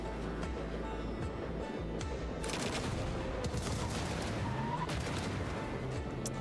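Carpet-shot gunfire in the train deck-builder game Fogpiercer is a dense, loud, sustained barrage of rapid overlapping blasts and explosions with a heavy low rumble underneath, continuous from start to finish.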